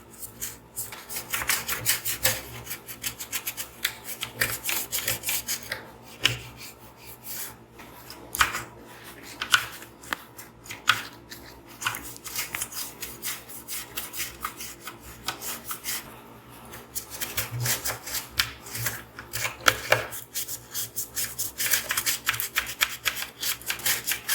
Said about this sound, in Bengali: যেখানে ভেতরগুলো কালো কালো রয়েছে সেগুলো একটু ঘষে ঘষে দেবো কোলগেট দিয়ে।